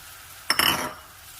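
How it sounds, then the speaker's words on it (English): Rice tipped into hot bacon grease in a pan gives a brief, close sizzle with a light clatter, rising suddenly and fading within a second. "I'm just going to break that apart, mix it up, and saute and fry it for a little bit in this bacon grease"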